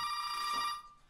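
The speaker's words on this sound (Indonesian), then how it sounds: "telepon rumah mereka berdering" A home telephone rings with a bright electronic tone, one sustained burst that cuts off and fades within about a second.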